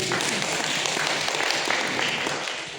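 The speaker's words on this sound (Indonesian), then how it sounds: "Tepuk tangan buat kalian" At a Saturday worship service, the congregation claps together in a continuous, moderately loud patter that eases off slightly toward the close, with nobody speaking.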